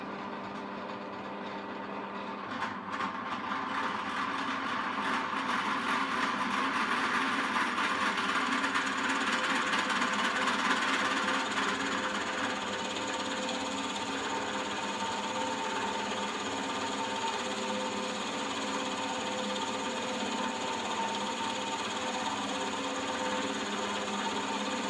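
A drilling machine runs continuously for a long stretch, boring holes to a set depth, a steady mechanical whine and hum without pauses.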